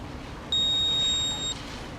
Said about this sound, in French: Est-ce qu'on entend un bip avant de passer à la suite?